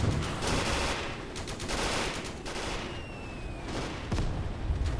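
An anti-tank gun fires in the Gates of Hell wartime strategy game, its shots mixed into a dense, continuous din of battlefield gunfire and blasts at steady loudness, with no voices.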